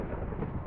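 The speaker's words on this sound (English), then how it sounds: "You don't hear all the lightning?" Deep rolling thunder from lightning in a video game, a brief low rumble that fills the moment steadily with no voices over it.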